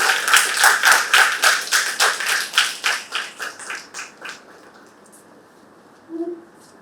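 Applause from a small university debate audience for the day's best speaker, rhythmic and fairly close, gradually slowing and fading out over several seconds, followed by a brief voice.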